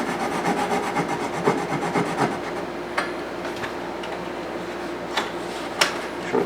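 Close, soft scraping and rasping on wood as guitar binding is cut to length, with a few sharp clicks and taps scattered through the strokes and no talking.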